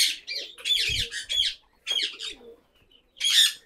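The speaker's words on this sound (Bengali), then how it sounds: "এইখানে ব্লু চিক কুনুররা, ক্রিমসন রেড বেলিট" Blue-cheeked and crimson red-bellied conures in an aviary, giving several loud, close, harsh squawking bursts in irregular bursts with short gaps between them.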